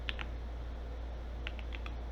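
Quick bursts of computer keyboard typing, a few keys clicked near the start and another run of key taps toward the end, close and distinct over a steady low hum.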